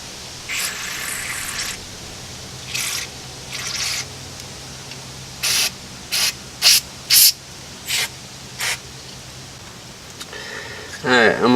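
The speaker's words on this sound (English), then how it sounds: "let me spray this out here" Short bursts of spraying hiss in a loose series as sludge is sprayed out of a Dune Cycle trike part, some long and some quick, with a low hum underneath and faint wet sounds.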